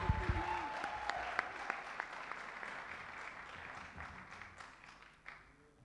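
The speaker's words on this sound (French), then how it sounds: "On les applaudit bien, bien fort." Congregational applause for a church worship band, a broad patter of many hands with a few sharper nearby claps, steady at first and gradually thinning out, set against a faint tonal hum.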